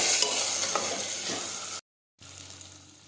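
Cumin and turmeric are stirred in a frying pan, giving a steady close sizzle with scraping stir strokes, then a brief silent gap before a quieter sizzle resumes.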